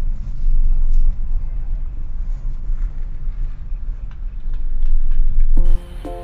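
A push-button car, push-started at about 10 km/h with a dead battery, runs with a steady low engine rumble, then goes quiet as a tonal chime or beep sounds near the end.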